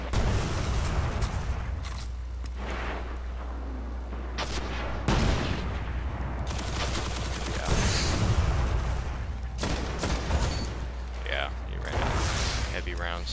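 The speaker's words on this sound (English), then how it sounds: "You typically get 3 with the rocket launcher, which is why I waited until 3 were fired." Rocket launcher blasts and gunfire from the video game Destiny, a busy run of booms and shots layered over steady game background noise and music.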